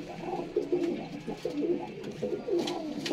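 A pigeon coos nearby in soft, repeated throaty phrases, a steady low murmuring pattern with faint background noise.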